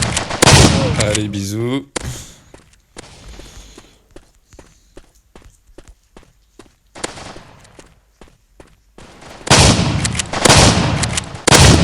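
Shotgun blasts in the mobile first-person shooter MaskGun: a run of sharp, evenly spaced reports rings out in the middle, between bursts of louder talk at the start and end.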